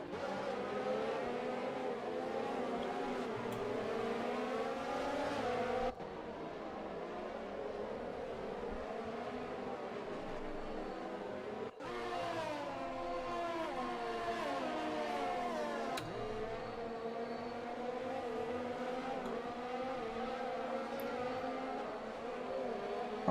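Formula 1 cars in a video game race on a Brazilian Grand Prix circuit after a safety car restart, their high-pitched engines whining continuously and rising and falling through gear changes, loud and close, with no voices over them.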